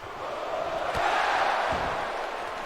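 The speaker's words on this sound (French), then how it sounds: "Sous une foule en délire" A wrestling arena crowd at a WWE SmackDown match roars in sustained, dense cheering, a broad wash of many voices swelling slightly midway and holding steady, with a couple of soft thumps underneath.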